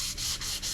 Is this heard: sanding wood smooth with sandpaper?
yes